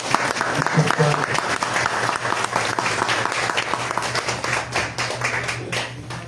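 Audience applauding the mothers of a group at a Mother's Day talk on Coyoacán bookstores, a dense steady wash of clapping that holds throughout over a low constant hum.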